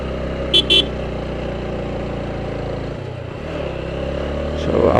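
Motorcycle engine pulling in first gear on a ride to Sajek, a steady close drone running throughout with a brief dip in the middle and a slight swell toward the end.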